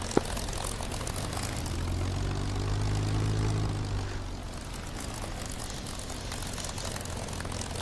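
A P-51 Mustang propeller engine drones in the DCS flight simulator, a loud steady throb whose pitch swells and eases, joined briefly by a single sharp click near the start.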